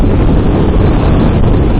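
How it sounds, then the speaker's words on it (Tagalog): Steady, loud wind buffeting the microphone, a constant low rumble and roar with no pauses for its whole short length, during a motorcycle ride from Zambales to Tarlac City. "Sarap ng hangin dito."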